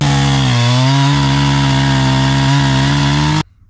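A NEO-TEC NH872 71cc gas chainsaw, a Husqvarna clone, roars loudly at high revs, pitch dipping briefly as it bogs, then cuts off abruptly near the end.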